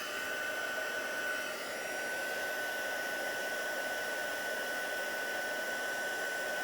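A heat gun blows hot air to melt embossing powder for heat embossing, a steady close whirring hiss with a faint high whine running unbroken throughout.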